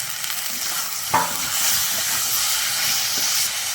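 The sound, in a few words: masala with turmeric, tomato and peas being sautéed for egg curry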